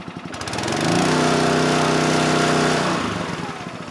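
A log splitter's small gasoline engine revs up from idle, swelling to a loud, steady buzzing drone for a couple of seconds and then easing back down, close by with no talk.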